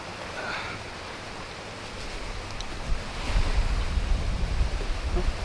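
Wind blows across the deck of a cruise ship at sea off Jamaica, a steady rushing noise that swells into stronger low buffeting gusts in the second half, with no talk.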